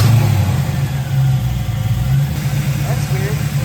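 A Fox Body car engine with Vortech brackets and a relocated alternator runs close by at a steady idle, a loud continuous low rumble with slight rises in revs.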